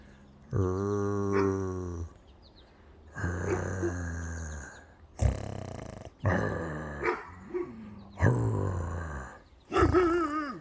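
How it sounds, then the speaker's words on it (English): Several dogs growl and bark in loud, repeated bursts close by, around a 1972 Chevrolet C10 4x4 pickup, with short pauses between outbursts. "So watch these dogs here."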